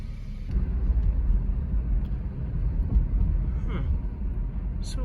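A 2012 Honda CR-V is driven and taken through its gears, heard from inside as a loud, steady low road rumble and engine drone with no clear break at each shift.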